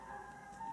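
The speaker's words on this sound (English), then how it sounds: "there's ice cream truck on" An ice cream truck outside plays its chime tune, faint and distant, as a thin, steady melody for under a second with no one talking.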